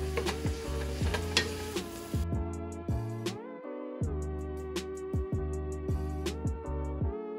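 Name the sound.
stirring capsicum, onion and carrot in a pan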